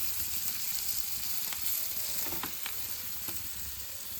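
Small sardines fry in oil in a pan, giving a steady close sizzle and crackle with a few soft stirring clicks throughout.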